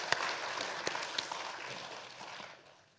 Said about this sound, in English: give a big applause to the panelists